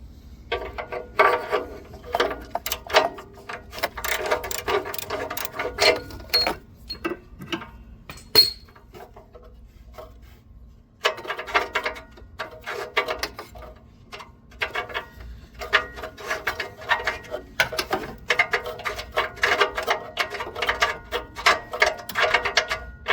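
A ratchet works to remove the air fuel ratio sensor from inside the heat shield of a 2003 Toyota Camry, giving rapid clicking and metallic ticking in bursts with brief pauses, close up and without speech.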